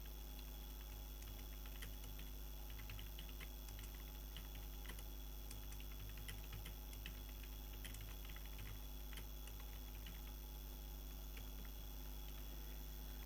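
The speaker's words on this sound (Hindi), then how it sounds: "उसके बाद आपको एड्रेस टाइप कर लेना है" Quiet, steady typing of an address on a computer keyboard, with soft, fast key clicks running continuously over a low background hum, no voices.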